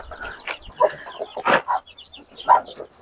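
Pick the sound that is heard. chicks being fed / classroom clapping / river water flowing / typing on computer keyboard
chicks being fed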